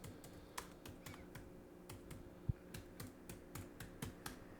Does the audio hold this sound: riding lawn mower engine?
no